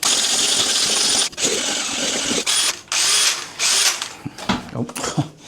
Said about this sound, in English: I've always got a little drill powered whisk